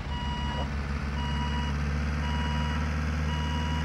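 Reversing beeps from a vehicle in the Wobbly Life video game, a steady repeating electronic tone sounding at an even rhythm over a low engine drone, with no talk.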